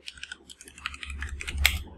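Computer keyboard typing while test code is written, a quick irregular run of close, light key clicks with a few denser bursts and no voices.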